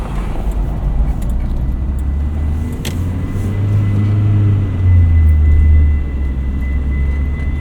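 A first-generation 1979 Honda Prelude on the move, heard from inside the cabin: a steady low engine drone and road rumble, with the engine note rising and falling around the middle of the drive, loud and continuous with no talk.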